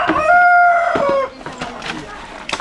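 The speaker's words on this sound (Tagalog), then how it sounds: "Maraming manok dito eh." Chickens clucking and a rooster-like call with strong harmonic tones at the start, then quieter farmyard noises and scattered movement, at a duck egg farm.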